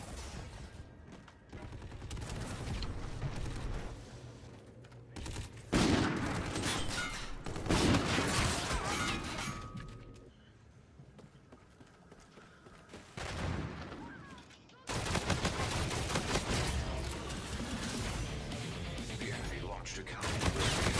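Video game gunfire crackles in repeated bursts, loud and close, with a quieter lull in the middle before the shooting resumes.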